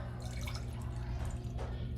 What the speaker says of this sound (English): Fill the jar up with water, but you have to leave some space on the top so you can fit your glitter.